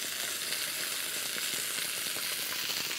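Pieces of skin-on food fry in a hot pan, giving a steady, close, dense sizzle with crackling spits throughout and no talking.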